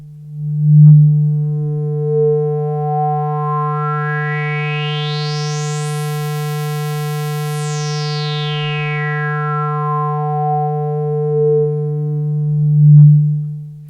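A Yamaha CS-5 synthesizer holds a sustained buzzy square-wave note through its low-pass filter, the cutoff sweeping slowly open until bright harmonics fill in, then closing back to a dull tone, loud and alone.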